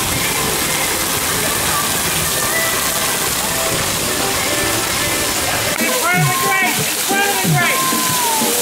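Running water at an indoor water park splash pad and slides on an upper floor hisses and splashes steadily, with a voice and children's calls rising over it toward the end.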